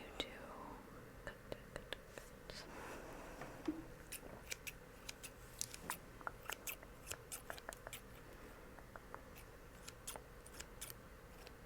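Scissors snip steadily through paper for a Q-tip skeleton Halloween craft, many crisp close cuts in an irregular rhythm, with soft whispered talk in the background.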